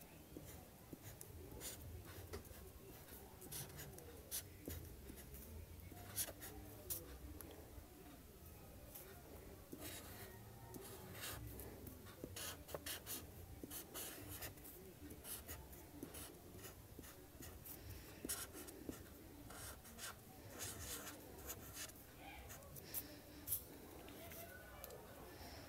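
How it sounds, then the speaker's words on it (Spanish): Ballpoint pen scratching across a handmade birthday card, steady close scribbling strokes running continuously at low level, with occasional louder ticks of the pen and faint background noise. "Aquí vamos a escribir feliz cumpleaños."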